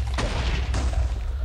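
A carbine fires in Minecraft CrackShot multiplayer PvP, with three loud, sharp shots spaced about half a second apart over a constant low rumble.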